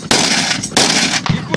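Ukrainian army automatic grenade launcher firing two loud, close bursts of rapid shots, the second starting about halfway through and trailing off, with a brief extra crack near the end.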